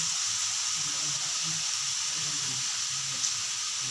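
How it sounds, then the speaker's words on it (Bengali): Spice paste with green chilies fries in oil in a pan while pabda fish curry is being cooked. A steady, even sizzling hiss holds at moderate volume throughout. "মশলাটা আমি ভালো করে কষে নেব।"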